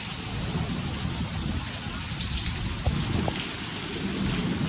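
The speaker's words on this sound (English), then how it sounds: "Look at the rain like hitting against the roof." Heavy thunderstorm rain pounds steadily on a roof, a dense continuous downpour close by with a faint rumble of thunder in the background and no voices.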